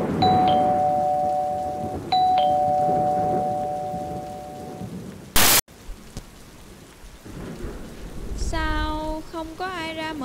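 Two-tone doorbell chimes twice in clear ringing tones over steady heavy rain and a low rumble of thunder, followed by a sharp knock and later a voice speaking.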